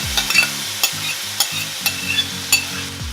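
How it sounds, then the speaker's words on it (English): Drained canned corn sautéing in melted butter, a steady close sizzle broken by repeated scraping and clacking stirs of a spoon against the pan, with no talking. "we're just gonna saute this a little bit and let the corn caramelize and the butter brown"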